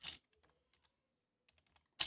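Keys clatter on a computer keyboard nearby, with a loud burst at the start and another at the end, separated by a few scattered soft taps and a near-silent pause.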